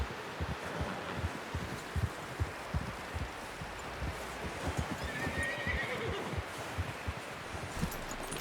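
Horses in Red Dead Redemption 2 snort and whinny while hooves clop irregularly over the ground, close and continuous, with a faint rustle in the background and a voice now and then.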